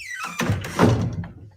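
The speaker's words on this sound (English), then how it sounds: "to the sound of an old wooden door" An old wooden church door closes with a heavy, resonant thunk that follows a brief creaking swing, close and loud, then fades.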